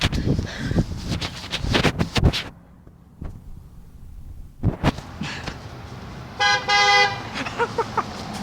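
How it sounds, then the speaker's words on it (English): A passing car sounds a loud, close, sustained horn toot near the end, following louder traffic and rustling noise with a quiet gap between. "I got the honk too."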